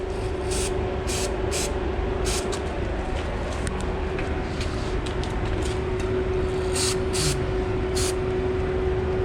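Aerosol spray hissing from a can onto the brake of a Royal Enfield Himalayan motorcycle, a steady broadband hiss that runs unbroken throughout with a few faint clicks above it, fairly close and alone.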